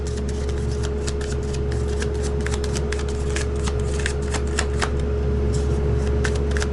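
Tarot cards shuffled and drawn close up during a reading, a steady run of rapid papery flicks and snaps over a constant low hum.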